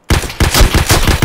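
Loud automatic gunfire from the Escape from Tarkov video game, a rapid burst of close shots in quick succession lasting about a second.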